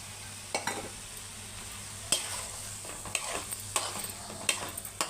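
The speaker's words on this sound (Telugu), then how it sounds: "బాగా కలుపు." Rice with palak is stirred in a pan, a soft sizzle broken by repeated spoon clinks and scrapes against the metal at an irregular pace, close and quiet.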